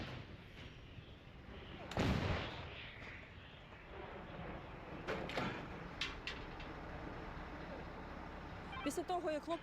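A Bohdana self-propelled howitzer on a Tatra chassis fires a single distant boom, with a broad low thump and a rumbling tail against a steady outdoor hiss.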